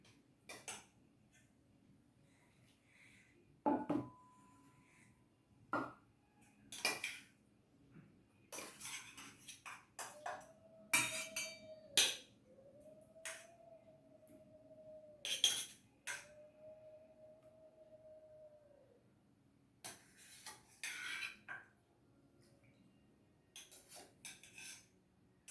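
Katla fish being served with cutlery onto a plate: sharp metal-on-plate clinks and scrapes in scattered bursts, with a few soft squeaky tones in between, close and fairly quiet, no talking.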